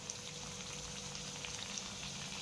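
Puris for gupchup (pani puri) frying in hot oil, a steady soft crackling sizzle with faint bubbling, close and continuous with no voices.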